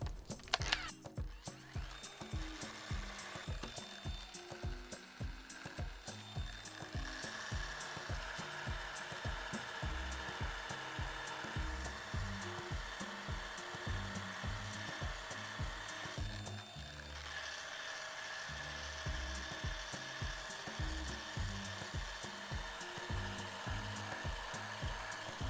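A surfboard's hot coat being wet sanded by hand with 500 grit sandpaper to flatten a small imperfection, a steady close rhythmic scrubbing of back-and-forth strokes running continuously without talk.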